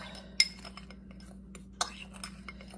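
Rosemary seasoning for pork being mixed in a bowl, quiet with two sharp clinks of utensil against the bowl and soft tapping in between, over a low background hum.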